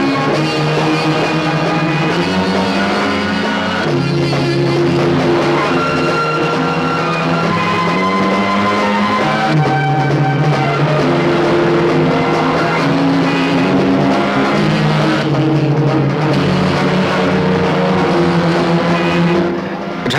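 A car speeds along, its engine loud and close, pitch rising and falling through gear changes over twenty seconds, with occasional tire noise and no clear speech.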